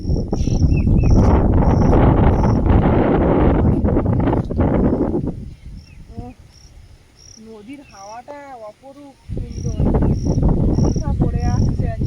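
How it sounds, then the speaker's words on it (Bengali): Strong wind blows across open rural countryside, roaring loudly into the microphone in long gusts, then easing in a lull where insects chirp and birds call nearby before the gusts return. "বাইরে প্রচণ্ড হাওয়া হচ্ছে"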